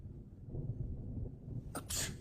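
A single sharp sneeze bursts out near the end, loud and close after a stretch of quiet room tone.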